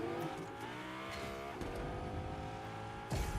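A car engine in Fortnite revs and whines with shifting pitch, with a thump near the end, steady and close.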